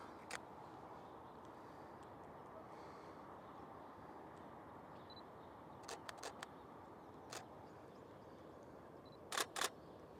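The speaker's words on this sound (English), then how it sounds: "I love that mechanical shutter sound." Several sharp mechanical camera shutter clicks, a scattered few then a quick double near the end, over a low steady background hum.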